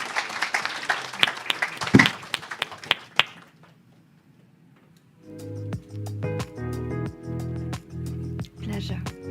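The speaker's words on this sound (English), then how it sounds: "Give one more applause to all our panelists" Audience applause for panelists at the IFRA Global Fragrance Summit 2025 fills a large hall for about four seconds, fades to near silence, then gives way to steady rhythmic music.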